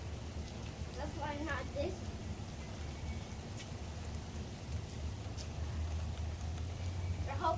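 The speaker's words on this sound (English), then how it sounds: "I hope it rains more." Steady rain falls outdoors as a continuous soft hiss, while children talk and play in it.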